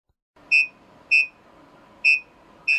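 Volvo truck VEC collision warning giving four sharp, evenly spaced electronic beeps over a low cabin hum, clear and close.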